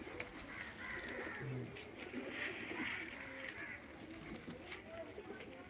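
Pigeons coo in soft, low repeated calls at a moderate distance, with occasional voices faintly in the background.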